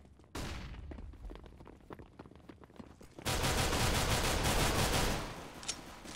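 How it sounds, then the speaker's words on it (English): In the CS:GO video game, gunfire crackles in sharp bursts before a flashbang goes off with a sudden loud, sustained hiss that stays strong for about two seconds and then fades. "Throwing a flashbang."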